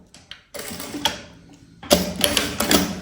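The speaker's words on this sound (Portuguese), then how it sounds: "Eu programei a minha máquina para fazer o retrocesso automático no início e no final." A home sewing machine runs the first seam of a Mickey-themed zippered pouch, with close mechanical stitching bursts separated by brief pauses and handling noise.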